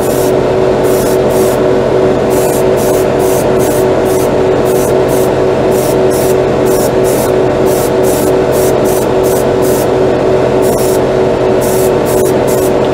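An airbrush sprays lacquer paint over gray primer, a loud continuous hiss of air with rapid pulsing bursts as the trigger is worked, close up and alone.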